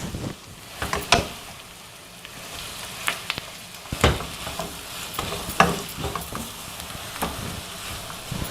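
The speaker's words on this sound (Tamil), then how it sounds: "அதையும் போட்டு இப்போ நம்ம இந்த முட்டைக்கோஸ் போட்டுக்கணுங்க." Onion, capsicum and cabbage fry in a pan, a continuous sizzle punctuated by irregular scraping and clattering strokes of a spatula, close and fairly loud.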